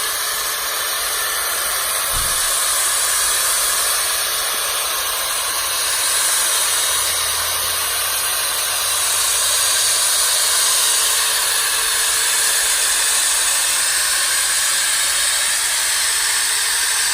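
A hand-held 1-gallon polyurea joint pump on a 110-volt supply runs with a steady, loud broadband hiss and whir, continuous throughout with a slight swell midway, briefly carrying on after the trigger is released.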